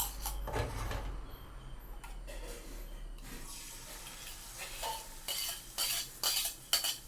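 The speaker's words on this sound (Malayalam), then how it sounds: "ഈ പാൻ ചൂടായതിലേക്ക് നമ്മുടെ മുട്ട ഒന്ന് ഒഴിച്ചു കൊടുക്കാം" Beaten egg poured into a hot pan and spread around for a chapati egg roll, giving a soft sizzle with scraping and clinking of a utensil against the pan, louder in brief bursts toward the end.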